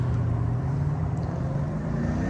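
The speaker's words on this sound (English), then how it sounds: "That exhaust sounds pretty good." Steady low exhaust drone from a 2022 Acura TLX Type S with quad exhaust and all-wheel drive, a continuous rumbling hum held at even loudness throughout, with no talking.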